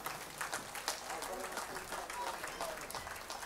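Faint, distant applause fills the room at a live concert in Ruse, Bulgaria. The crowd's clapping is a soft, scattered patter that keeps a fairly even level throughout.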